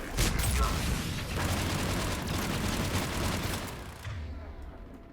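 Pistol fire in Mass Effect Legendary Edition comes as a dense burst of rapid shots and impacts under a noisy battle roar, then drops away near the end.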